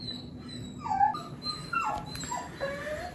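A dog whimpers inside its kennel, wanting out: a few high, thin whines and short yips come and go over a low indoor hum.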